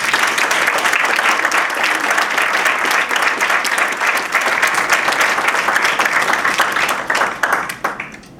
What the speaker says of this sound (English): Well, first, we give a round of applause.